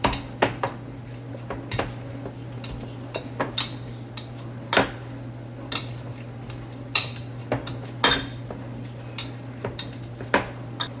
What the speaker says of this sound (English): Start with that and mash it out.